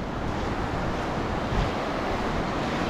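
Steady wind roars across a beach during surfcasting after rain, a close, continuous rushing blend of gusts and surf with no voices.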